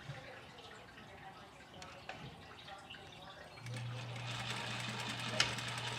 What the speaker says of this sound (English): we are going to do a little top stitch just over these parts at the top